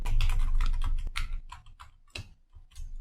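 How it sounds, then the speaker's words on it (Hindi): A password typed on a computer keyboard, with quick close key clicks in an uneven run that thins out toward the end. "पासवर्ड लिखा, एंटर की प्रेस किया।"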